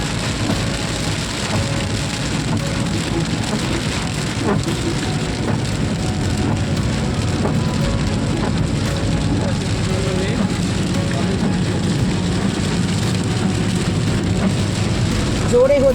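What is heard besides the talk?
heavy rain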